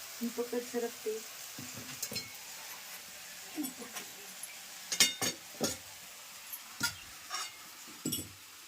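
Phodshi wild vegetables being stirred and fried in a pan on a wood-fired stove, with a soft sizzle beneath repeated scraping and clinking strokes of a spatula against the pan, close and fairly quiet.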